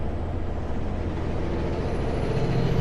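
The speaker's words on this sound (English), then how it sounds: "Why are we slamming on our brakes?" A Class 1 truck braking hard, with a loud, steady broadband rumble of the heavy rig and air brakes running throughout, close and continuous, no talk.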